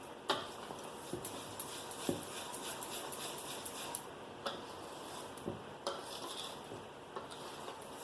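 Chia seed pancake batter for eggless pancakes stirred in a bowl, faint close-up scraping with light regular taps of the utensil on the rim.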